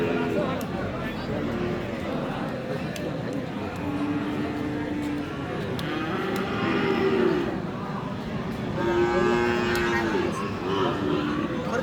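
Cattle moo several times, long and low, over a busy murmur of people talking at the Aftabganj livestock market in Dinajpur, where bulls are sold for Qurbani.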